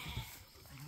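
Kiko Spanish cross goats bleating out on brush pasture, a short, moderately close bleat against steady outdoor background.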